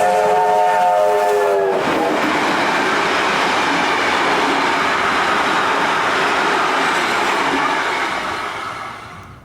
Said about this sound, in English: we just managed to catch a train storming through Donnybrook